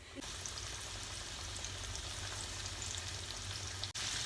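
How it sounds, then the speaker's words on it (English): Steady, dense sizzling and crackling of chicken pieces frying in hot oil, close up and continuous, with no voices. "you're going to add your chicken pieces directly into the oil"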